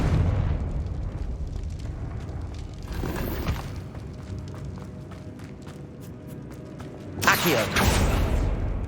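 Confringo fire spells burst in Hogwarts Legacy gameplay with deep booming explosions, one strong blast near the end over a steady low rumble of game background sound.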